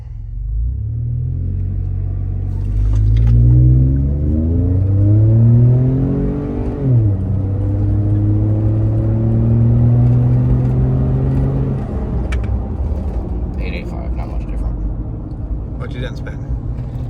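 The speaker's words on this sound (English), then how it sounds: "Another 4-wheel drive pull" A Ford F150 EcoBoost pickup accelerating hard in four-wheel drive, engine rumbling and climbing through rising revs with a gear change midway, loud and close, with cabin voices speaking over it.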